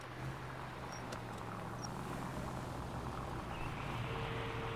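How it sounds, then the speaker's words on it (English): A car in the video game L.A. Noire coasts along at low speed, a steady, smooth low engine and road rumble that stays constant throughout. "I like that Roy's car just kind of coasts at low speeds"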